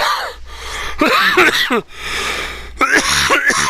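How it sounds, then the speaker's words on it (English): Several rough, throaty coughs in close succession, loud and near, with brief pauses between bursts. "I'm gonna cough"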